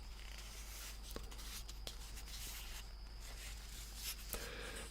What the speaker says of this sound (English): this paper is really good for dark crinkles like Dave says